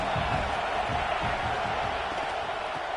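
Dense, steady roar of a college football stadium crowd at a Wisconsin at Oregon game, a broad wash of noise with no distinct cheers standing out, heard alone for a few seconds.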